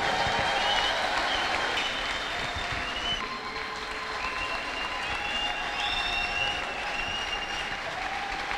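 A church congregation applauds steadily, with high wavering ululation calls rising over the clapping throughout the stretch.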